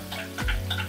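Beef shank simmering in a pot with cream being added, giving a brief bubbling, sizzling burble with a few soft stirring sounds, close and fairly quiet.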